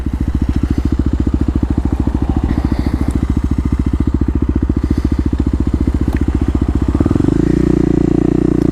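A Kawasaki KLX250 dirt bike's single-cylinder engine thumps steadily nearby at low speed in an empty parking lot, a loud rapid pulsing that rises in pitch and grows louder near the end as it revs up.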